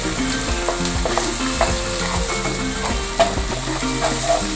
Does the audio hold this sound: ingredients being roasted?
yes